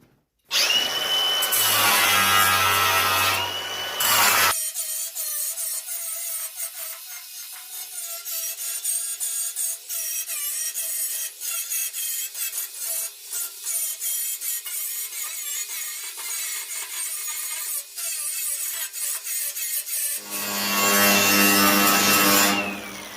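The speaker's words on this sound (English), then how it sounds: "Just grind these down" An angle grinder works down welds on the steel body of a 1969 Mustang Fastback, a loud continuous rough grinding that runs for most of the span, bracketed by louder bursts at the start and end.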